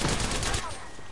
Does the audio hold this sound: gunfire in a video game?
yes